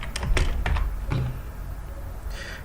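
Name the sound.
typing on computer keyboard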